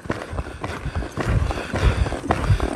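A horse lopes in an arena with a steady rolling rhythm of hoofbeats on soft ground, the thuds fairly close and repeating several times in quick succession.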